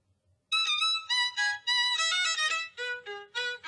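Violin playing a quick run of separate bright bowed notes, with the melody stepping downward, heard alone and clearly in a classroom listening-exercise recording.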